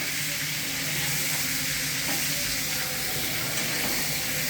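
An eggplant curry with coriander sizzles and fries steadily in a pan while a ladle stirs it, a continuous close hiss with faint scraping throughout, no voices.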